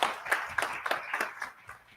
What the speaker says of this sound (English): So please, let's give a big round of applause to Colette Picot.